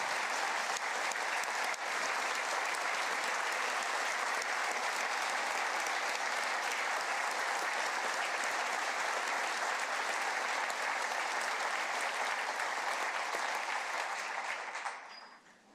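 Sustained, dense applause from a large audience at a 2024 South Dakota State of the State address, steady and loud for about fifteen seconds before tapering off abruptly at the end.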